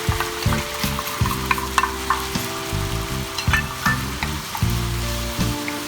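Kung Pao chicken stir-fried in a wok with a prepared sauce poured in: steady close sizzling with repeated scraping and tossing strokes of the spatula, no talk.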